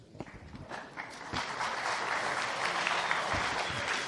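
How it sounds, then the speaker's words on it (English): An audience at a tech talk breaks into applause, starting as scattered individual claps and building into a steady, even wash of clapping over a few seconds. "you haven't even done anything and you get applause"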